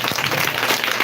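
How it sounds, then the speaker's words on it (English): Audience clapping at a school handover ceremony for a wash facility in Weima, a short burst of brisk, fairly loud clapping from a gathered crowd. "Not clap for Amako now."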